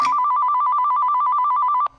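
A telephone rings with a rapid trilling electronic bell, one loud, close ring burst lasting nearly two seconds before cutting off abruptly.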